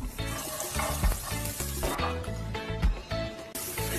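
Zucchini frying in a hot pan with hing, curry leaves and green chili, a bright steady sizzle broken by the scrape and clatter of a spoon stirring, close and alone.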